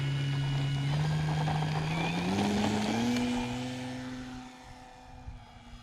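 An FMS Big Pitts RC model airplane revs up for takeoff, its engine holding a steady drone that climbs in pitch before fading as it moves away.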